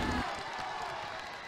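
A high school pep rally crowd at Aptos High cheers and claps in a steady, dense roar, fired up by the ASB student president.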